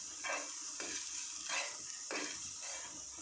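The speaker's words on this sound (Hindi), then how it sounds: "इसको अब हम मिक्स करेंगे" Chicken ball mixture being mixed by hand with salt and red chilli powder in a bowl, three rhythmic squelching, scraping strokes in a quiet kitchen, close and fairly soft.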